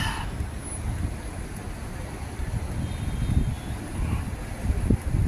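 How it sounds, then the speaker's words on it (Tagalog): Cool outdoor wind gusts across the microphone, a low, rumbling rush that rises and falls in uneven surges throughout, with no clear voices. "May hangin."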